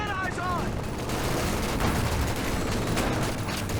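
MG42 machine gun suppression fire in the Company of Heroes video game during a 2v2 match: steady, dense rattling bursts run throughout, with a commentator talking over it.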